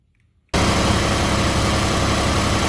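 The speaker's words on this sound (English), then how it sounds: "got it running. I have it in neutral, 2-wheel drive." Kubota RTV X1140 utility vehicle engine starts abruptly and keeps running at a steady, loud idle in neutral, a dense even drone that continues unbroken to the end.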